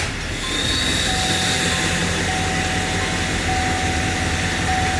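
A diesel truck engine runs with a loud, steady, close drone and a faint whine on top, holding an even level throughout with no pauses or talking.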